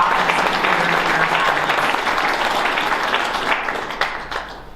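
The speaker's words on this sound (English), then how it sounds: "Let's have another round of applause for our offensive player" At the 2021 Bushnell Cup ceremony for Ivy League football, an audience claps steadily and loudly for the offensive player finalists, the applause slowly thinning out toward the end.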